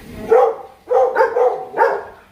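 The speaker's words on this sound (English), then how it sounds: "The dogs are barking because she's going away." Dogs bark at home as someone leaves: four loud, close woofs come in an uneven run over about two seconds, with no talking.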